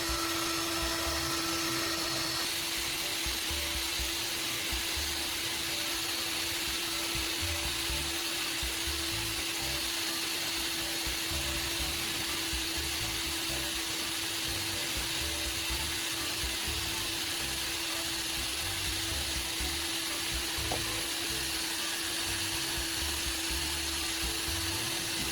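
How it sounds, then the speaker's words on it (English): A drill spins a polishing wheel loaded with green compound against a pruning shear blade, giving a steady, even motor whine with a constant hum that runs unbroken for about twenty-five seconds, with nobody talking. "polishing it with the green compound on the drill"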